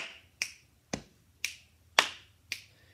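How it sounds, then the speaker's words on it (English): Body percussion in a steady pattern: five sharp, crisp finger snaps and chest taps alternating with claps, evenly spaced about half a second apart, close and clear with no talking. "so it's going to be snap, chest, snap, clap, snap, chest,"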